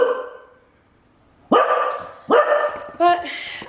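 A house dog barks as its owner arrives in the driveway. After a quiet opening with faint voice, three loud, close barks come in quick succession, the last one higher and more yelping.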